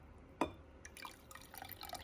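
Warm matcha latte is poured from a container into a cup in a kitchen, with a sharp drip or splash followed by a light, trickling stream of liquid.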